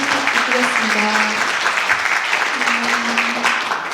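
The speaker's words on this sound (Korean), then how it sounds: "박수 부탁드리겠습니다." Conference audience claps steadily after a student presentation, dense applause lasting several seconds while a voice speaks over it.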